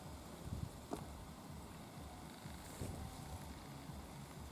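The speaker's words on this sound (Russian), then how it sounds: "Очень сильный ветер на улице" Strong wind blowing outdoors near a samovar where currant-leaf tea is brewing, a steady broadband rush with gusts swelling and easing across the whole stretch, with no voices.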